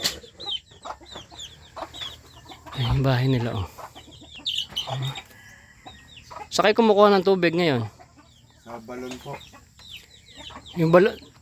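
Many farmyard chickens cluck and squawk in loud bursts near a rural house with a well, while people talk in between the flurries of calls.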